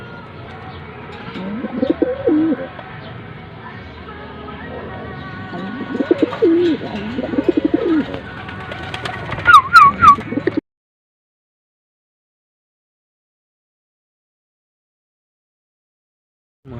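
Pigeons cooing right after bathing, with low, rolling coos repeating close by for about ten seconds, a few thin whistles near the end, then sudden silence.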